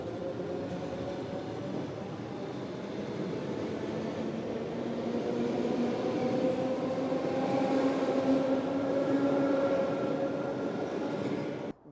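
A train at a railway platform in the Moscow region rumbles past steadily and loudly, with a droning mechanical hum and rising tonal whine that continue unbroken before cutting off abruptly at the end.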